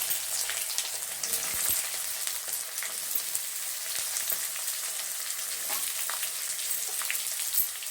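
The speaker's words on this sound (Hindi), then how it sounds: "प्याज को अच्छे से फ्राई करेंगे गोल्डन ब्राउन होने तक।" Onions and whole spices frying in a pan for a gravy, a dense steady sizzle with soft crackles and pops throughout, fairly close and with no voices.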